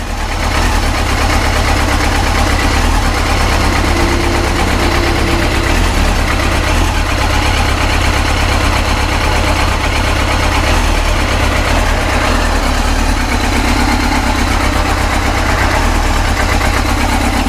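Yamaha YZF-R6 sport motorcycle idling with the choke off, a loud steady close-up engine drone with an uneven idle, no talk.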